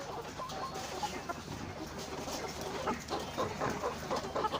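Twenty-week-old Hisex Brown laying hens cluck in a steady, overlapping chorus, soft and somewhat distant, with no talking.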